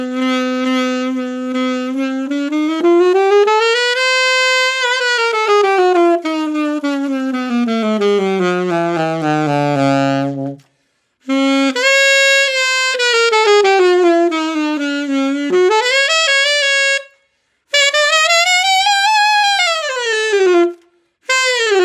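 A Jupiter 500 student saxophone plays a series of sustained, bright tones sliding up and down in pitch, close and loud, separated by a few short pauses.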